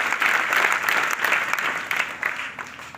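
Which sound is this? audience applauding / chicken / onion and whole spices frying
audience applauding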